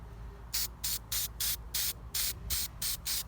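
Short bursts from a spray can fired as a test before coating a homemade wooden play table outdoors, about nine quick hissing puffs in an uneven rhythm, close and fairly loud over a low outdoor rumble.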